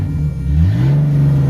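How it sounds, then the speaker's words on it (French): A drift car's engine revs in neutral at a drift event, a loud close rumble that climbs in pitch and holds high for a moment. "Attends, mets neutre. Accélère dans le vide."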